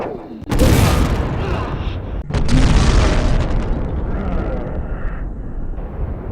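Weapon rounds fired at enemies in the video game Resident Evil 6: two loud, heavy booming blasts a couple of seconds apart. Each one rolls into a long rumbling decay with scattered debris-like crackle.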